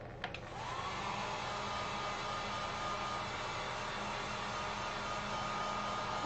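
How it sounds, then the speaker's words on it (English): A heat gun drying acrylic paint on a wooden St. Patrick's Day sign blows a steady, loud, continuous broadband roar, with a brief click at the start and no pauses. "I'm going to use the heat gun for just a second"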